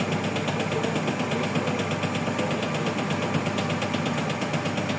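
Brandt washing machine spinning at around 600 rpm, a steady loud mechanical drone with a rapid rhythmic rattle and knock running throughout, close and continuous without talk.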